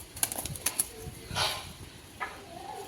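A female Belgian racing pigeon from a 2024 club lineage, heard as quiet, close wing flutters and soft rustling with brief scattered clicks in a calm room.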